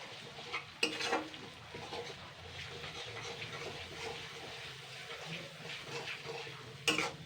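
Drained boiled taro leaves go into a pan of hot oil and are stirred, producing a continuous soft hiss of frying with a few louder scraping bursts near the start and end.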